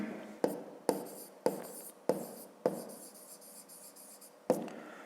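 A pen or pencil taps and strokes across paper in six short, sharp bursts while working a grade 5 geometry exercise on angles, each stroke fading quickly, close and quiet, with no voices.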